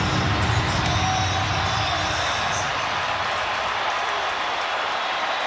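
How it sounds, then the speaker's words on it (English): Football stadium crowd at a Detroit Lions versus Minnesota Vikings NFL game, a steady broad roar of cheering that stays loud throughout with no breaks. "This crowd coming to life, trying to help the Lions defense finish the job here"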